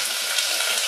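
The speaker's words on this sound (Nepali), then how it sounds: "हामीले प्याज रातो गरेर फ्राई गर्नेछौँ।" Onions frying in a pan for chicken biryani give a steady, dense sizzle with a faint stirring scrape underneath.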